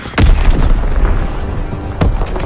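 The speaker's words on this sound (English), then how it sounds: "Enemy bomb incoming. Get to cover." An enemy bomb goes off in the World War II shooter Call of Duty WW2, two deep loud booms about two seconds apart, rumbling heavily with a low roar between them and no speech.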